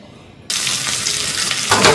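Mustard seeds are tempered in hot oil for a Kerala koorka theeyal curry. A quiet start breaks suddenly into a loud, close, spluttering sizzle that gets a little stronger toward the end, with no talking.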